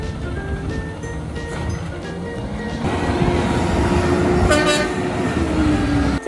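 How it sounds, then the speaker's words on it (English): A Waste Management garbage truck sounds its horn in a long, steady toot over the rumble of its idling engine, loud and close, lasting several seconds. "Thanks for honking."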